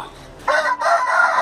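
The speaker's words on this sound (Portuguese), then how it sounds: "Olha a altura que tá esse galo" A rooster crows loudly and close by in one sustained, strained call that breaks briefly in the middle before carrying on.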